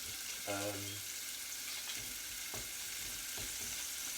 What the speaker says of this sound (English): So onions are in there, getting them cooked off with the garlic and a little bit of salt.